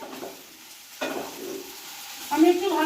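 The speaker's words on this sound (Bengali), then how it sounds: "দিয়ে ভালো করে ভাজা ভাজা করে নিতে হবে।" Potato and cauliflower fry in a pan with a soft, steady sizzle and stirring scrapes, and a voice briefly joins near the end.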